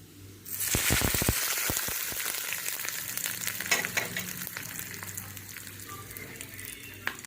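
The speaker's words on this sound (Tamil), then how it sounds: "கடுகு நல்லா பொரியணும் ஒரு காஞ்ச மிளகாய் ஒரு கொத்து கருவேப்பில் போட்டுக்கலாம்" Mustard seeds, dried chili and a sprig of curry leaves hit hot tempering oil for chow chow chutney, bursting into a loud, close sizzle with sharp popping crackles up front that settle into a steady fry.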